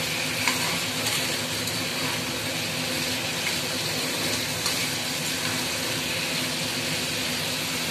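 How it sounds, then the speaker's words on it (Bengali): Potato and chicken pieces fry in a pan, a dense continuous sizzle close up with a few faint scraping stirs, no voices. "এবার আলু আর চিকেনটাকে একটু নাড়িয়ে নেব।"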